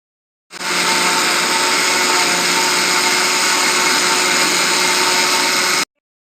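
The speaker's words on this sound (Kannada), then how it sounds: "ಅದನ್ನೇ ಈಗ ಮಿಕ್ಸಿಗೆ ಹಾಕ್ಕೊಳ್ತಾ ಇದ್ದೀನಿ ನೋಡಿರಿ ಮಿಕ್ಸಿ ಜಾರ್ನಲ್ಲಿ ಹಾಕಿದ್ದೀನಿ ಇದನ್ನೇ ಪುಡಿ ಮಾಡ್ಕೊಳ್ತಾ ಇದ್ದೀನಿ" An electric mixer grinder grinds dried turmeric into powder with a loud, steady, high-pitched motor whine. It starts abruptly, runs evenly for about five seconds and then cuts off sharply.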